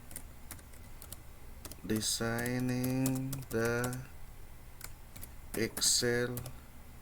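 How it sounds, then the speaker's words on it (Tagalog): Computer keyboard typing while entering text into an Excel spreadsheet, with scattered close key clicks and taps around someone speaking. "So i-type natin designing the Excel."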